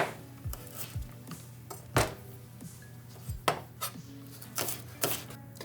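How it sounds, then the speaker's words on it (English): A knife slices green onions on a cutting board, crisp knocks landing one by one at an uneven pace, close and fairly quiet over a low steady hum. "Now we're gonna slice up our green onions to add to the wild rice as well."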